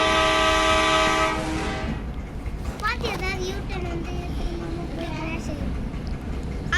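A train in the video game Indian Bikes Driving 3D sounds a loud sustained horn, then rumbles along under steady noise while people talk over it.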